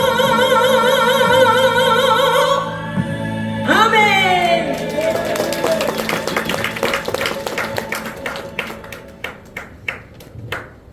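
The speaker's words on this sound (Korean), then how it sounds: "하나님께 영광의 박수 올려드리겠습니다" A congregation applauds at a New Year thanksgiving church service in a large hall at the Women's Missionary Society building, with sustained tones fading into scattered, loosening claps that thin out toward the end.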